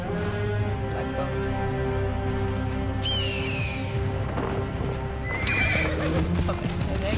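Rhythmic clip-clop of galloping hooves throughout, with a high whinny midway and another near the end, over low music.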